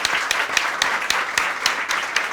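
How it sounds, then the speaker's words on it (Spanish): Audience applause at a debate on liberalism and religion, a steady patter of many hands clapping with a few louder, closer claps standing out at a fairly regular beat. "Un aplauso también"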